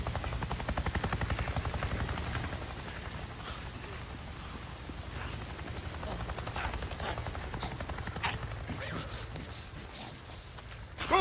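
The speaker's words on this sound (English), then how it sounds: "It just buzzed right over me and acted like I wasn't even there!" A helicopter in the Days Gone video game buzzes low overhead, a steady loud rotor chop and engine roar filling the whole stretch without letup.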